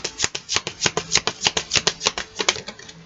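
Blue oracle cards shuffled by hand in a steady run of about a dozen crisp riffling bursts, close and clear with no talking.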